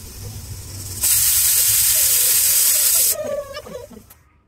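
A pressure cooker cooking beef with a spicy broth lets out one loud, steady hiss of whistling steam that lasts about two seconds, then cuts off. Quieter kitchen noise comes before and after it.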